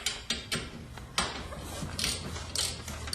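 A garage door torsion spring is loaded onto its rod during a repair, giving a series of sharp metallic ratcheting clicks and clanks at irregular intervals. The clicks are close and fairly quiet, with no talk.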